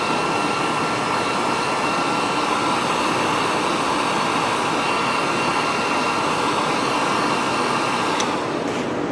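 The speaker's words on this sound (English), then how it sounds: "when you hit this with the heat gun, it shrinks nice and tight around that wire" Heat gun blowing to shrink heat shrink tubing over a soldered wire connection, a steady loud roaring hiss of hot air running continuously throughout, alone without speech.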